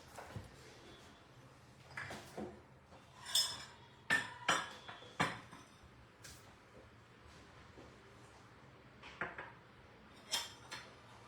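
A metal spatula scrapes and clinks in a pan as nuts are mixed into panjiri, giving scattered sharp taps and knocks, some in quick clusters, fairly close, with quiet gaps between.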